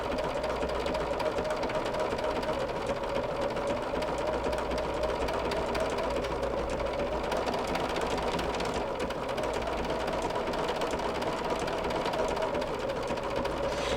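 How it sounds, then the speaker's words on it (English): A sewing machine runs steadily and close by, stitching a blanket stitch around appliqué petals on a quilt block, its fast rhythmic whirring and clatter continuing without a break. "the ends of these petals where I'm sewing now"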